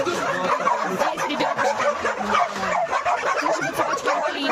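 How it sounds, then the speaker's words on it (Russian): Several dogs bark and yip at an animal shelter in Kyzyl, a dense, continuous chorus of barking close by with overlapping voices. "Слушай, вот собачки"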